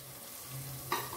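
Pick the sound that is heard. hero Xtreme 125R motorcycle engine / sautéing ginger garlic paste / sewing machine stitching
sautéing ginger garlic paste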